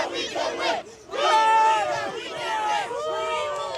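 US soccer fans outside SoFi Stadium after the USMNT versus Paraguay World Cup opener, a large crowd chanting loudly in unison with rising, rhythmic shouted phrases, close and energetic with a brief pause between bursts.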